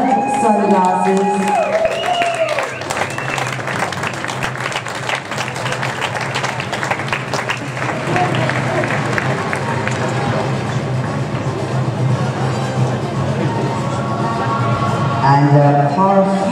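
A crowd applauds at the podium ceremony of the 2016 European Reining Junior Championship, sustained clapping from a sizable audience running across most of the stretch, with an announcer speaking over loudspeakers at the start and end.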